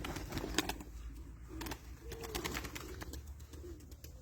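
White Istanbul pigeons in a loft give soft, faint coos against a quiet background of light rustling and small clicks, with no voices.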